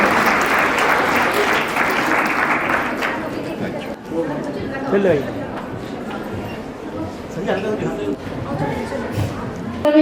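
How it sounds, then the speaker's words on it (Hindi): Loud crowd clapping greets the guests at a Founder's Day prize distribution, strongest for the first few seconds before a voice begins speaking over the fading applause. "तालियां इन सारे अतिथिगणों के लिए"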